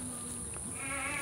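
A baby goat gives a short, faint bleat against a steady hum and background noise, the cry rising briefly mid-clip.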